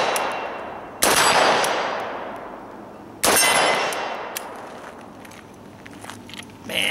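Arsenal SGL 31-94 AK-74 rifle in 5.45x39 firing at distant steel targets outdoors: two loud, sharp reports, each trailing into a long ringing decay, with faint small clicks and handling noise between.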